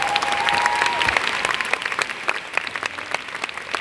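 A hall audience at a Nu Skin Southeast Asia 2018 event claps for Nick Vujicic, with dense, sustained applause that thins slightly as it goes on.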